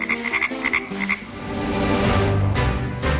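Frogs croaking loudly and close, a rapid train of rhythmic pulsing croaks giving way to a dense, continuous chorus, with no talking.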